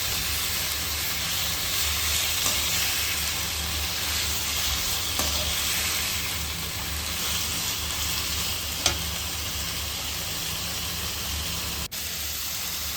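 Potatoes fry in a pan for a bitter gourd and potato dish, stirred with a ladle. The hiss is steady and broadband throughout, with a low hum beneath it and a couple of faint scrapes.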